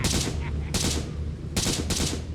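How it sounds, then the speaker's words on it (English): Bursts of gunfire shooting at trees in a Better Call Saul episode, rapid machine-gun volleys arriving in loud repeated bursts with brief pauses between them. "please stop shooting the trees"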